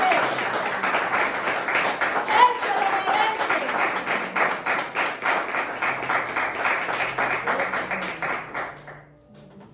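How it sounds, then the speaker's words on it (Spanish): A church congregation claps in steady rhythmic applause through an evangelical service, dense and continuous before fading near the end, with a preacher's voice speaking over it. "Denle un aplauso a su Dios porque Él se lo merece."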